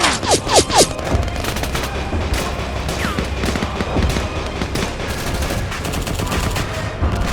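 Sustained gunfire crackles through a combat scene in a Korean nuclear war scenario, with a few sharp shots up front followed by a steady wash of rapid fire and distant bursts.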